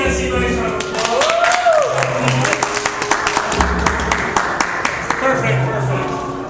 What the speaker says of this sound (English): everybody give Jesse a nice round of applause